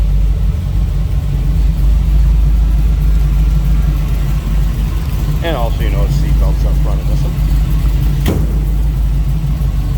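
A 1934 Ford Highboy Roadster with a steel body idles in neutral with a steady, loud low rumble, while someone talks briefly over it and a short sharp blip of revving rises near the end.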